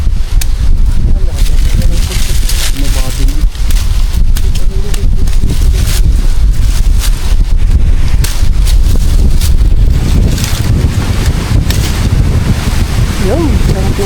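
Strong wind gusts blow outdoors near a banana plantation, buffeting the microphone loudly and continuously, with faint voices partly buried beneath the roar.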